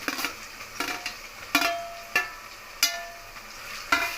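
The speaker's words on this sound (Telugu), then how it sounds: "ఇప్పుడు టమాటాలు అయితే వేసుకుంటున్నాను." Tomatoes stirred into frying onions for chicken biryani, a steady low sizzle under repeated scraping strokes of a spoon against the pan, about one every half second, close by.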